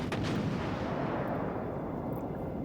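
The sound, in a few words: battleship firing HE shells in video game World of Warships Legends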